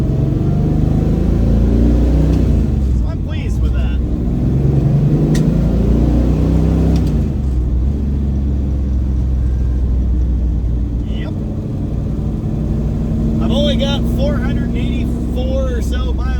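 A classic Mopar drag racer car cruising on the road, heard as a loud, steady low engine drone and road rumble from inside. A person talks over it throughout.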